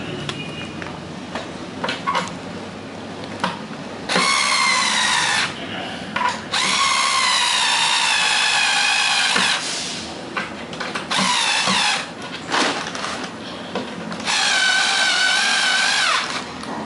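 A power drill drives screws into internet cafe furniture in several loud, close bursts of whining motor, each lasting a few seconds, with quieter handling noises between them and no talk.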